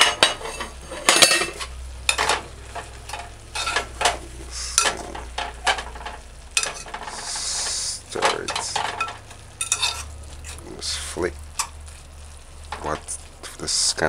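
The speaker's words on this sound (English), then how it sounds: "Kind of stir it like." A spoon stirring sliced king fish callaloo in a pot on a low stove, with repeated scraping and clinking against the pot in irregular bursts over a faint sizzle.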